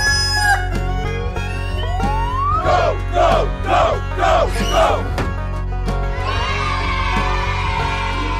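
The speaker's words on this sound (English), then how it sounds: "Chicken." Cartoon chicken clucking in a children's animal animation: a rising whistle-like sweep, then a burst of about five quick rhythmic clucks over steady background music.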